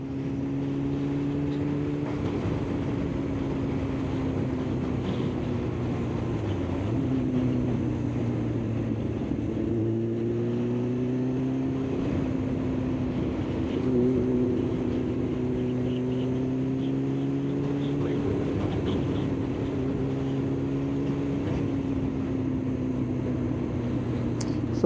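A Kawasaki ZX9R sport motorcycle ridden along country roads, its engine and exhaust holding a steady drone that rises and falls gently with throttle changes, under constant wind noise and with no one talking.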